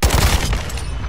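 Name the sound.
gunfire from a video game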